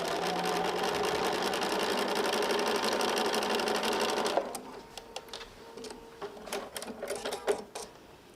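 A sewing machine runs steadily for about four seconds while stitching nested quilt seams, then stops, leaving a few scattered clicks and small handling noises close by.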